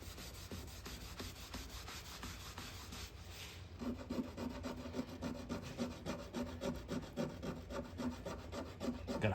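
A fingernail scrapes along the surface of a Tempest arcade cabinet, making quiet, close, rhythmic rasping strokes that grow steadier and more regular in the second half.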